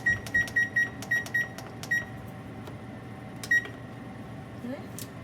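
Oven control panel beeping as the temperature is set to 425 for baking, a quick run of short bright electronic beeps followed by a few isolated ones, faint in a quiet kitchen.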